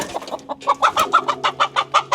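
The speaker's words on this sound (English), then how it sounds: "We gotta get this chicken out of here." A chicken clucks in a steady run of close, loud, repeated clucks on a property where log splitting is done, with a low hum underneath.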